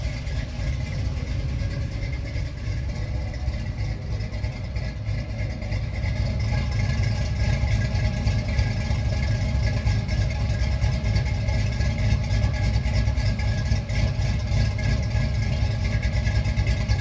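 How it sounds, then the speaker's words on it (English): A cammed Chevrolet Silverado truck idles with the hood open, giving a steady, close, low rumble that stays even and continuous throughout. "here is the underhood of the truck running. As you can tell, there's pretty much no tick."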